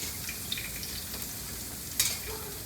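Sun-dried tomatoes dropped into a pan of fried garlic, giving a steady, soft sizzle and crackle with a brief louder hiss partway through.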